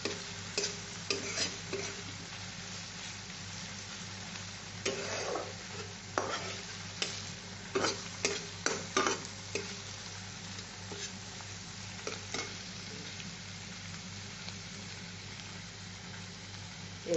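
Ilish pulao ingredients are stir-fried with spice powder, giving a low steady sizzle with intermittent clusters of scraping and stirring clatter from the pan, close and moderately quiet.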